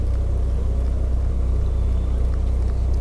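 Boats motoring past a lure-fishing spot on open water, heard as a steady, loud low engine drone that holds without a break and with no talking.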